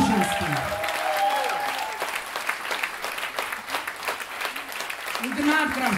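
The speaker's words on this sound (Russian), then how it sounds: "я хочу огромное, пожалуйста, действительно, достойных этих фантастических музыкантов аплодисментов" An audience at a live music concert applauds the musicians in a dense, sustained wash of clapping, with voices and some tonal sound from the stage audible over it.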